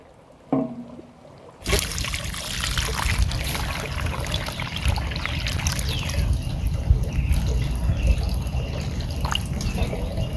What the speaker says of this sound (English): So we're going to water this in really, really well.